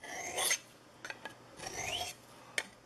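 A dull knife blade is drawn across a natural handmade sharpening stone in a few separate scraping strokes, close and fairly quiet, with short gaps and light clicks between passes.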